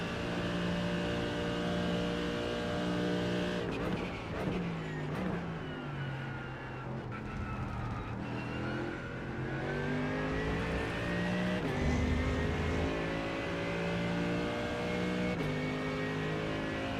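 Hypercars in iRacing at Interlagos roar past with rising and falling engine whine, several cars revving and shifting through a sustained, loud pass with no talk over it.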